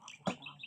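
A single short nasal quack from a duck, close and fairly faint, over quiet background chatter.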